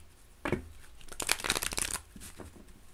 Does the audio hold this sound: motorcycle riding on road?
no